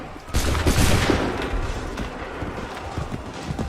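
Musket volley gunfire in Assassin's Creed 3 during the defense of Lexington: a loud, dense crackle of many shots bursts out together, then rolls on as a sustained rumble of scattered reports and battle noise.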